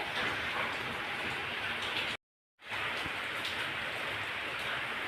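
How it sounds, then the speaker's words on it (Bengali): Light rain patters steadily on outdoor surfaces, a soft, even hiss that cuts out completely for about half a second, then resumes at the same gentle level. "বৃষ্টি শুরু হলো এই সবে এখন একটু একটু অল্প অল্প করছে"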